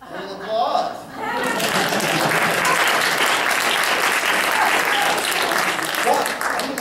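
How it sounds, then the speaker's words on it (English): A theater audience at a magic show bursts into sustained applause, dense and loud for several seconds after a short voice. "Little applause."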